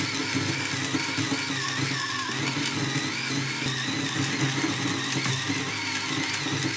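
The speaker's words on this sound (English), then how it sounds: "which is another battery-powered hand grinder." A battery-powered Varia Evo hand coffee grinder grinding beans, a steady continuous motor whir with grinding texture, close and constant throughout.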